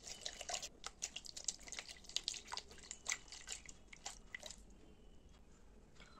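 Water splashes onto a face during a wear test of Swiss Beauty Studio Finish full-coverage foundation, heard as close, irregular wet slaps and drips that thin out toward the end, with no talking.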